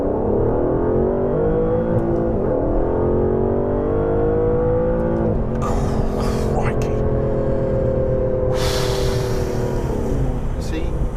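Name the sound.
Aston Martin DBS accelerating hard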